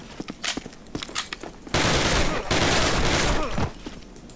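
A rapid burst of automatic gunfire rips through a Call of Duty match, a sustained loud volley after a few scattered single shots and footsteps.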